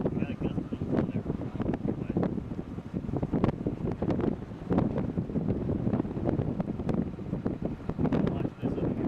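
Wind buffets the microphone in strong, continuous gusts during a tornado chase near Happy, Texas, a loud rumbling roar with sharp bumps, as people talk faintly beneath it.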